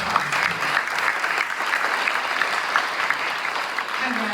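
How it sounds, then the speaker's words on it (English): Steady applause from an audience at a school district governing board meeting, a dense even patter of clapping filling the room at moderate loudness throughout, with faint voices underneath. "Give him a round of applause."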